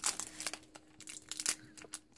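Plastic toy packaging crinkling and crackling as hands hold it and scissors cut into it, with quick close snips and rustles in an uneven rhythm, fairly quiet overall.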